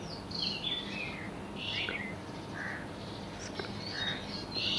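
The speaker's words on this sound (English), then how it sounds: "the forest awakens to a symphony of sounds, birds chirping" Birds chirp and call in a forest, several short bright twittering phrases scattered over a soft steady background hum, moderately near and unhurried.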